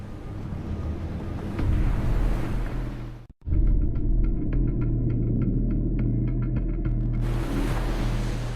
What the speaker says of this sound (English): Too far in, these powerful waves will rip it to shreds.